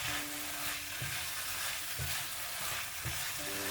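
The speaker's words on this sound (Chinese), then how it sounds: "再将蒸好的豆角倒进来，开大火快速翻炒均匀" Steamed green beans and tomatoes are stir-fried fast over high heat. A dense sizzle runs throughout, broken by regular spatula tosses about once a second.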